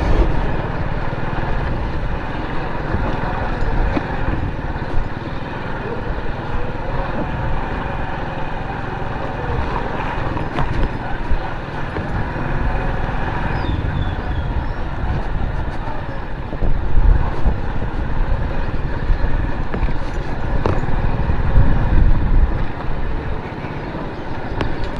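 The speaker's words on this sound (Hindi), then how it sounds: "आज हम मोटरसाइकिल लेकर गुजर रहे हैं" A motorcycle ride through an underpass in Karachi at Karimabad gives a steady, loud engine rumble close by, layered with surrounding traffic noise and a swell of louder roar near the end, with no talk.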